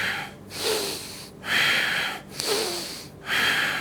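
Several loud breaths during a floor-based yoga mobility routine rush out through the nose in a slow, even rhythm, each lasting about a second and separated by short pauses, close to the listener.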